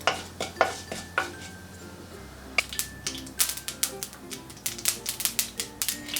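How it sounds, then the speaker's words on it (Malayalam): Urad dal frying in a pan until golden brown while a spoon taps and scrapes it in quick, uneven strokes, close and fairly quiet, with a soft sizzle underneath. "ഇനി ഈ ഒരു ഉഴുന്നുപരിപ്പിൻ്റെ ആ ഒരു കളർ മാറുന്നത് വരെ ഒന്ന് ഫ്രൈ ചെയ്തെടുക്കണം"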